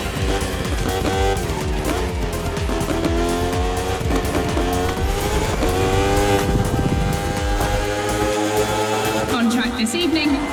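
A KTM RC16 racing motorcycle and a Ferrari 488 GT3 race on a circuit in The Crew Motorfest, with engines roaring continuously at high revs, tires squealing, and a voice talking over the loud, dense mix throughout.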